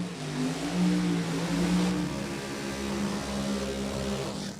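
A pro stock drag racing car accelerates at Lebanon Valley Dragway during an NHRA event: a loud, steady engine roar with a rising pitch and a quick upshift partway through, fairly distant and with no voices.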